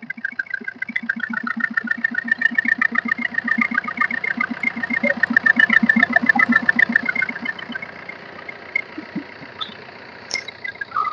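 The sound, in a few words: Brezza ZDI+ diesel car engine idling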